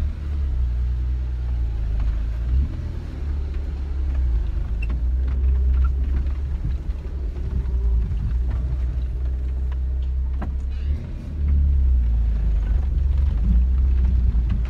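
A car running on fuel vapour while driving gently under light load, giving a steady low engine rumble with road noise throughout and a brief dip and swell in the drone, with no talking.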